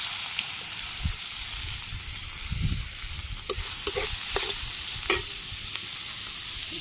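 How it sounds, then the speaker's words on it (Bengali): Amaranth stem greens go into hot oil tempered with cumin seeds in a village kitchen, a continuous sizzle with a few stirring clinks and scrapes near the pan. "এই ডাঁটা শাকগুলো দিয়ে দিই তেলে,"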